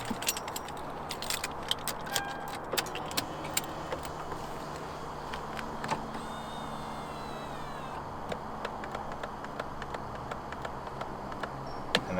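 Car key for a Toyota Aristo handled inside the car during a steering wheel install, small scattered metallic clicks and jingles, faint and close, with light tapping and no talk.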